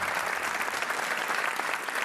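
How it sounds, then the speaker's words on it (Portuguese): Studio audience of the Portuguese TV game show Joker applauds a contestant, a steady dense wash of clapping filling the whole moment without pause. "um aplauso também para o Tiago"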